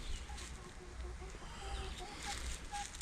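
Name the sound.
Rhode Island Red hens clucking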